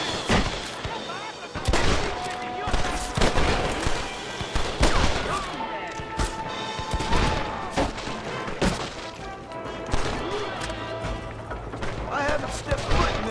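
Enemy gunfire in the Western game Red Dead Redemption, with repeated sharp shots and crashing impacts spread through a busy firefight, someone talking over parts of it.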